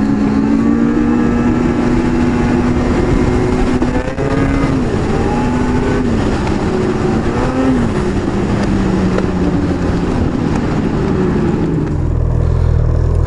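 A 2018 Ski-Doo XRS 850 Rev Gen4 snowmobile running over bare dirt instead of snow, its engine droning loud and close with pitch wavering as the throttle rises and falls, steady throughout with no talking.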